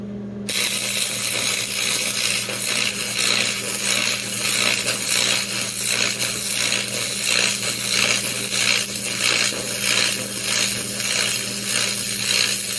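Tack welding a wear plate for a model 55-SHP22M pellet stove. A continuous crackling, sputtering buzz with a steady electrical hum underneath runs loud and close from start to finish, pulsing slightly in intensity.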